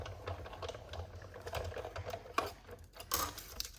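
A manual die-cutting machine feeding a die and cardstock through its rollers at an angle for card making, a close, steady mechanical whirring and clicking with small knocks, no talk.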